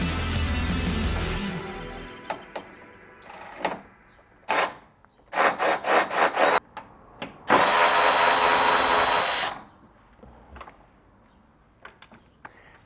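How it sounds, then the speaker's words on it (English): Brushless Milwaukee cordless ratchet spinning out 10mm radiator bolts on a 2000 Toyota 4Runner, heard as short whirring bursts, a quick series of stuttering pulses, then one longer sustained run, separated by quiet pauses. "Gonna use my brushless Milwaukee ratchet to take these off."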